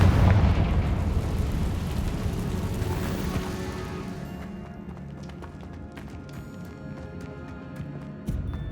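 A Confringo fire spell explodes in the Hogwarts Legacy video game, a loud booming blast with a long rumbling roar that slowly fades into quieter debris clatter and ambient game noise.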